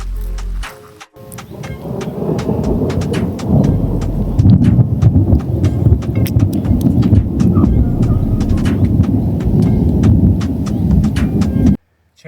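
Heavy thunderstorm over a lake in the south of France: loud, constant downpour with deep rolling thunder rumbling underneath for about eleven seconds, then an abrupt cut to silence.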